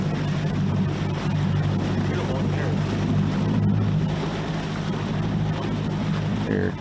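A bass boat's motor idles out on open water during a bass fishing tournament, a steady, close low drone that holds evenly throughout with faint water and wind wash above it.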